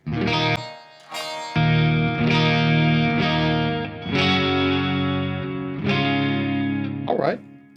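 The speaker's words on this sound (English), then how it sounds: "For me personally, a good clean tone has to have a chorus." A shimmering, chorus-effected electric guitar rings out with strummed chords and sustained notes. It has a slightly gritty edge and a spacious, warbling character, with no voices.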